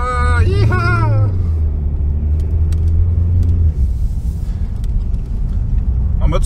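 A Skoda Karoq Sportline in sport mode with ESP switched off threads a snowy slalom at -18°C, its engine a steady loud low rumble under an excited voice that rises at the start.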